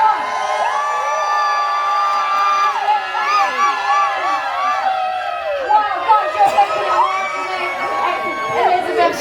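An audience at a show aboard the Royal Caribbean cruise ship Enchantment of the Seas cheers and whoops loudly and steadily, with many overlapping shouted voices and rising calls that continue throughout.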